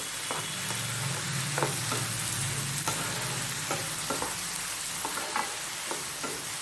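Chopped tomatoes sautéed and stirred in a pan for paneer butter masala, a steady close sizzle with irregular scraping strokes of a spoon throughout, no voices.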